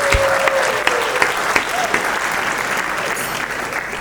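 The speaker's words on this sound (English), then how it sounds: "Let's give him another round of applause" Guests at a wedding reception in Perth give sustained applause, loud and continuous throughout, with a brief voice and a faint tone heard under the clapping early on.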